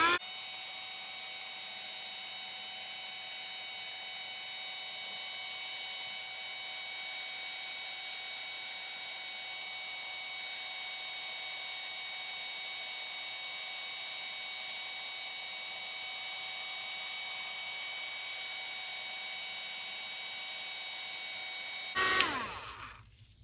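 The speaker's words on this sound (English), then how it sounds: "let's grab the heat gun and dry that" A heat gun blows steadily for over twenty seconds with a constant whirring hiss and whine while drying ink on a paper doll fairy, then cuts off abruptly.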